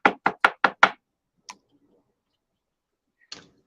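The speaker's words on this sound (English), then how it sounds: "Knock on wood." Five quick, crisp knocks on wood in a steady burst, then two lone taps after long pauses, close and clear in an otherwise silent room.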